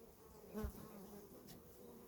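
Steady buzzing of bees at a hive being inspected hums throughout, with a brief louder drone passing close by midway; no voices.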